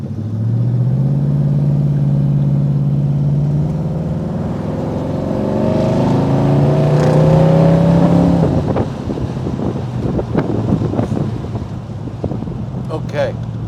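A custom 1964 Pontiac GTO engine revs and accelerates, its rising harmonic roar climbing in pitch over several seconds amid wind buffeting and road rumble, close and loud throughout.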